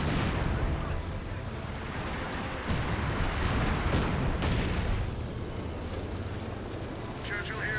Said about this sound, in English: And now got the artillery barrage in this region.